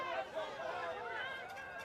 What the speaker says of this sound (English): Can hear what the home crowd think.